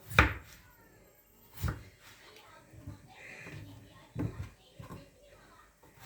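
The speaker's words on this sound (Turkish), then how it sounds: "Şimdi patateslerimizi şöyle bir buçuk santim genişliğinde halkalara ayıralım." A knife slices firm potatoes into rings on a board with a few sharp, separated thuds and quiet kitchen clatter in between.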